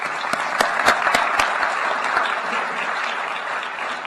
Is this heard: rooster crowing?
no